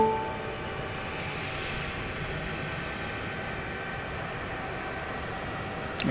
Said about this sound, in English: Once again, this is flight 753. It's a 757.